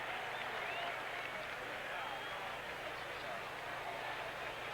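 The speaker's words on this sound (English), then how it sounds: "a couple of Cowboys clapping, thinking it's going in" Faint crowd applause and stadium noise at a 1990 Raiders–Cowboys preseason football game, a steady distant wash of clapping with no clear voice on top.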